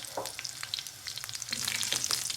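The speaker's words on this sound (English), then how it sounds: "You put fennel seeds, half a teaspoon. And give it a stir." Fennel seeds frying in oil with curry leaves in a pan for a pumpkin and sweet potato subji, a bright crackling sizzle with light scraping stir strokes, close and steady, louder in the second half.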